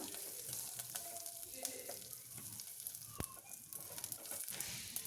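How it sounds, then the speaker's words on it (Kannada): Curry leaves and green chillies frying in oil for rasam, a steady soft sizzle running throughout with faint stirring clinks, moderately close and without talk. "ಕರಿಬೇವು ಮತ್ತು ಹಸಿರು ಮೆಣಸಿನ್ಕಾಯಿನ ನೀಟಾಗಿ ಫ್ರೈ ಮಾಡ್ಕೊಬೇಕಾಗುತ್ತೆ"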